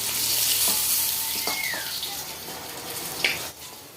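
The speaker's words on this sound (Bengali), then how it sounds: "দেখুন একদম লাল লাল করে মাছটা ভেজে নিয়েছি" A fish fries in hot oil in a karai until reddish-brown, giving a steady, close sizzle. A few brief clinks and scrapes of a utensil against the pan break through it.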